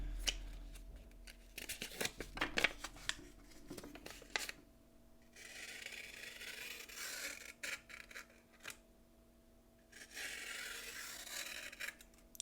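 A sharp pocketknife blade slices through a sheet of paper in a quiet room, with a few crisp snips and rustles followed by two longer smooth rasping cuts, close and clear.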